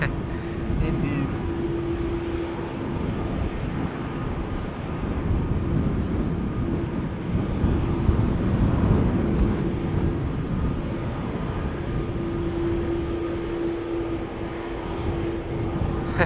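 A steady, loud roar of a departing airplane at Amsterdam Schiphol Airport fills the whole stretch, with a faint tonal hum drifting in and out.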